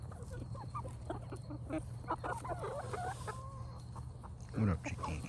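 Backyard chickens cluck softly and intermittently close by in a suburban permaculture garden, one louder squawk near the end, while a person talks quietly.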